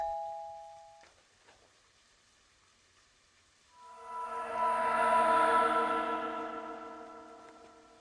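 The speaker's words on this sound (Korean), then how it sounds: "잠시 후 울리는 초인종 소리." Doorbell chime ringing in a Japanese horror animation, a single resonant ding-dong that swells and slowly fades, alone in a quiet room after a soft earlier tone.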